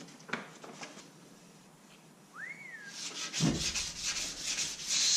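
Hand sanding with fine P600 sandpaper: a quiet stretch with a brief rising whistle gives way to steady, raspy rubbing strokes over the last couple of seconds.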